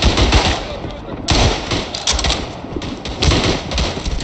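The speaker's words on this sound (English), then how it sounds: "Each shot is like a flipping bomb." Loud, repeated gunfire from the WWI shooter Tannenberg, with heavy booming shots arriving in bursts roughly every second over a dense battlefield din.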